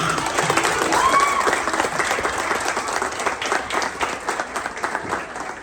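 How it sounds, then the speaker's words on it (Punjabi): An audience at an awards event in Dubai applauds a performer with dense, sustained clapping from a crowd. It holds at a steady loud level throughout and tapers slightly near the end. "ਤੇ ਇੱਕ ਵਾਰ ਤਾੜੀ ਮਾਰ ਦਿਓ ਉਹਨਾਂ ਵਾਸਤੇ"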